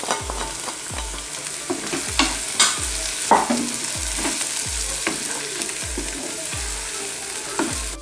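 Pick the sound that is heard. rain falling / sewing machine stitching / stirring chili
stirring chili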